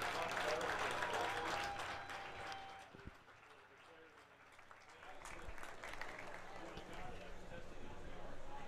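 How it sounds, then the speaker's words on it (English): Applause from a crowd at a high school fall athletics senior night, loud at first, fades midway then swells again, with voices and background commotion mixed in. "would you join me in one final round of applause"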